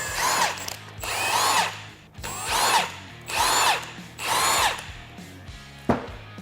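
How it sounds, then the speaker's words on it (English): A power drill removes transmission bolts on a Polaris RZR XP Turbo in five whirring bursts, each winding up and spinning down, followed by a short clack, close and loud. "we'll go through and remove all 5 of these bolts."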